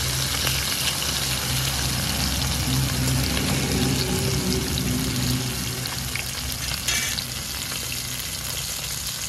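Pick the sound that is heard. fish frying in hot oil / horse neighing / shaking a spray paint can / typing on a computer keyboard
fish frying in hot oil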